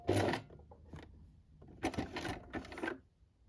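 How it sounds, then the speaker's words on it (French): Sewing machine running a holding stitch down an invisible zip on Citiz shorts, in short separate bursts of close, quiet, whirring stitching with pauses between them. "vous cousez donc la piqûre de maintien jusque l'arrêt de votre zip"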